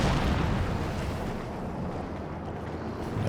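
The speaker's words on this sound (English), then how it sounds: "Katyusha coming in though" Katyusha rockets pound the ground in a Company of Heroes 2 battle, a continuous heavy rumble of overlapping explosions with a thick low roar that swells again at the end, no voices.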